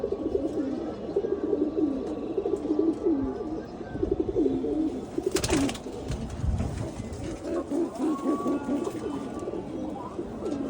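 Male pigeons coo steadily in a loft, low throaty calls overlapping one another close by, with a brief sharp clatter partway through.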